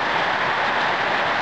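Torrential downpour from a sudden thunderstorm drums steadily outdoors, a dense, loud, continuous roar of rain with no pauses.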